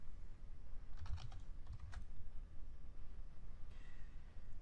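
Programming code being typed on a computer keyboard: two short, soft bursts of key clicks, then a brief pause and a fainter tap near the end, quiet over a steady low room hum.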